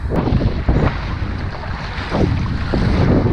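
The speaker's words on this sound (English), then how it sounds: "As you can tell, the wind is kicking my butt out there" Strong wind buffets the microphone in loud, gusting roars, with a broad rushing noise of wind over open water, heard from a kayak.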